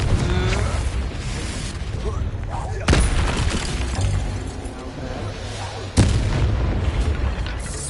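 Spell explosions boom from a Hogwarts Legacy battle, with two sharp blasts standing out over a dense, continuous layer of game combat noise and shouted voices.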